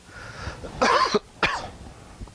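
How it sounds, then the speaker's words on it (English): Two harsh coughs close to the microphone, with a softer throat sound before them and quiet afterward. "Sorry about coughing."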